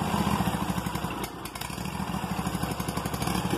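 Small Echo outdoor power equipment engine idling after a cold start, with a steady, loud chugging rhythm and a slight dip midway before settling back into an even idle.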